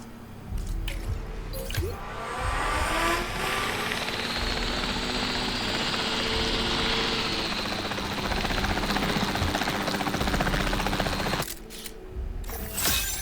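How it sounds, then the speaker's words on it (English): A helicopter in the Jurassic World video game flies with a steady broadband rotor and engine roar that holds for most of the stretch, loud and close, then drops away near the end. "It might be fastest to take the helicopter out there."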